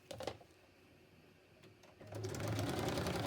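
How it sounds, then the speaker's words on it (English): A sewing machine stitches around a glued craft piece for a mini design-and-technology cat project, starting with brief bursts and then running steadily and loudly near the end. "I'm going to stitch down here and around like that."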